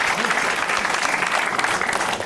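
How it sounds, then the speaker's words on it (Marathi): An audience applauds the top three performers at a Marathi comedy show, with steady, dense clapping close up filling the whole moment. "परफॉर्म एकदा जोरदार टाळ्या मित्रांसाठी."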